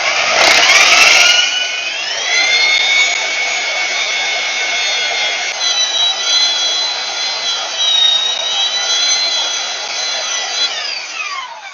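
A power tool grinds through a weld on a MoJack lift, a loud, continuous high-pitched whine after a brief rough start, holding steady with slight pitch shifts for several seconds.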